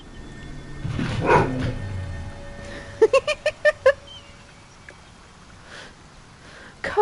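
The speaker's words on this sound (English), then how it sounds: "if you can hear thumping and growling, it's my dog very mad at my cat" A dog angry at a house cat gives a low growl early on, then a quick burst of about six sharp barks, followed by quiet shuffling and a faint thump at the end.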